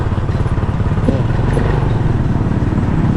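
A faltering motorcycle engine losing power, a loud, near, rough chugging beat that stutters unevenly, with a few faint background sounds.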